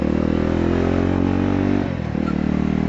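A six-speed Yezdi Roadster motorcycle pulls hard while overtaking on the road, its engine droning loud and close with a brief change in pitch partway through, and no talk over it.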